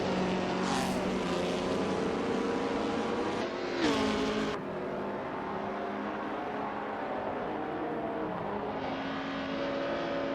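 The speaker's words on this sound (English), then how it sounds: "I hope you're enjoying the amazing racing action we have going on with these R-driven cars." 1950s Formula 1 race cars in an AI-driven racing game give off loud, continuous engine drones. Pitch sweeps rise and fall as cars rev and pass, with layered engine tones and no voices.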